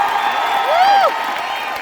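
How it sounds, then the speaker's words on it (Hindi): Crowd applause and cheering at an award function, a sustained wash of clapping with a whoop rising over it and voices mixed in. "एक बार जोरदार तालियां."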